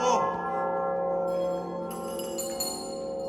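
A large tower bell on a rope, unrung for 120 years, rings out with a loud sustained tone and long shimmering overtones, followed by fainter struck bells, with people talking softly underneath.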